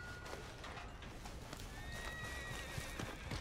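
Horse in Red Dead Redemption 2, hooves clip-clopping steadily while it neighs and whinnies partway through, heard up close over continuous outdoor game ambience.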